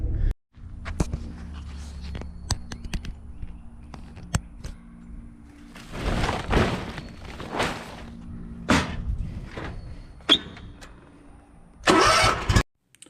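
A vehicle engine cranks and starts during a solo lawn care job, then idles at medium pitch, close and steady, with footsteps and door or handling thumps around it and a loud burst near the end.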